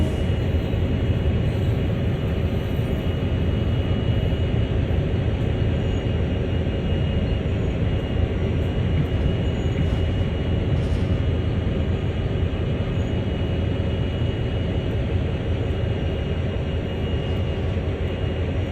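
Heavy CSX freight train in Train Sim World slowing under its automatic air brake, a steady dense rumble with continuous hiss and faint high squeal running throughout without a break.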